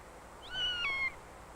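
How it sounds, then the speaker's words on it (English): One drawn-out cat meow from a 1953 film, clear and moderately close, rising then falling over about half a second against a quiet hissy background, with no talking. "He makes friends with Anna, the cat."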